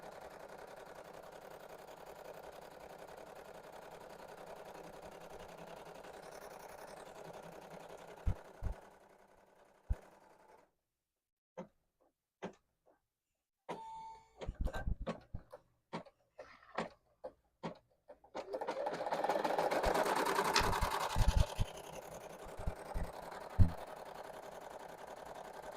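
A sewing machine stitching knit beanies in quiet, intermittent runs: a soft whir early on, then scattered clicks and taps, then a louder burst of stitching with sharp knocks.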